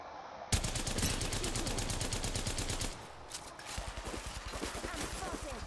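Rapid automatic gunfire in a shooter video game, a long sustained burst of evenly spaced shots that stops, then a slower, quieter string of rhythmic shots continues, with a voice speaking over the gunfire.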